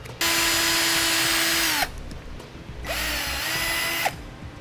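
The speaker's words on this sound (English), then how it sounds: "I'm gonna go through the bottom with the drill bit here." A power drill bit bores through a rubber grommet on a 2017 Volkswagen Golf during trailer wiring, in two loud, steady whirring runs separated by a brief pause, close up with no talk.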